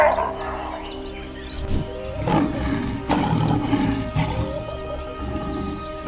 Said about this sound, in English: The lion is the top predator in the food chain of the African savanna, distinguished by its strength, pack tactics, and powerful roar.